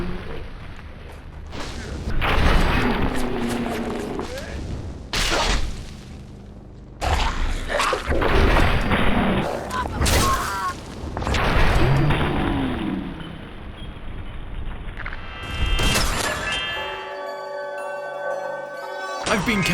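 Shishkebab flaming sword swung in combat in Fallout 4, with repeated heavy impacts, whooshes and crashing hits of varying loudness over game music and effects, several seconds of loud chaotic action.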